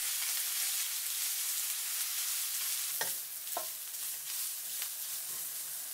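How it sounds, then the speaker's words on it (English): Ginger frying in hot vegetable oil over high heat, a soft even sizzle with a few brief spatula stirs partway through, fairly quiet and close, no speech. "When the oil is hot, add the ginger. Occasionally stir for 5 minutes."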